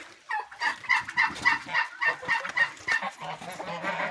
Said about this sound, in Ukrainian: О, півничок.